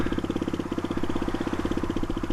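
A Suzuki DR250S motorcycle fitted with a Dominator R exhaust idles close by, with a loud, steady stream of rapid, even exhaust pulses and no voices.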